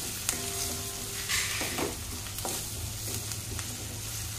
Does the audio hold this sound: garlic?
yes